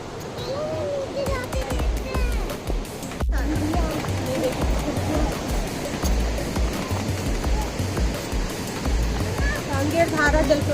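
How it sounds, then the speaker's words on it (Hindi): Kanger Dhara waterfall in Kanger Valley National Park, water pouring over cut rock in a continuous loud rushing roar, with people talking over it throughout. "कांगेर धारा जलप्रपात बोलते हैं ना। इसका फ्लो इतना रहता होगा पानी का"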